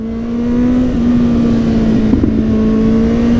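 A Kawasaki Z800e motorcycle engine drones loud and close with a steady, strong hum that holds a near-constant pitch for a few seconds, as the bike pulls away after braking and a downshift.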